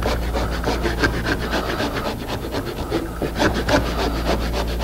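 A hand saw cuts a shallow, angled dado in wood for a hanging cupboard, with steady, close back-and-forth rasping strokes continuing throughout.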